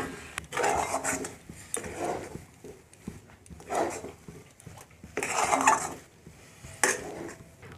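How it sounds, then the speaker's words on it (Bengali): Semolina stirred into boiled water and worked into a stiff dough, a spoon scraping and knocking against the pot in irregular bursts with short pauses, close and fairly quiet. "সুজিটা নেড়ে চেড়ে শক্ত একটা মণ্ড বানিয়ে নেব"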